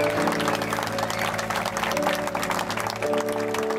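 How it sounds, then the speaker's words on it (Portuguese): Applause from wedding guests during a church ceremony, steady and moderately loud across the whole stretch, mixed with some crowd murmur and a faint sustained musical tone underneath. "Vamos dar um aplauso para o Senhor."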